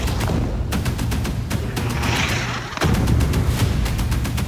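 A series of heavy booming missile blasts in Gaza, one especially loud and close, rumbling over a dense background of distant explosions and crackling gunfire.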